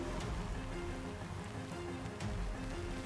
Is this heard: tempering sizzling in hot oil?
no